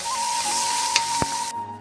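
Soybean chunks fry in hot oil in a pan with cumin paste, sugar and village-style spices: a steady bright sizzle with occasional stirring scrapes and one sharp knock, fading toward the end.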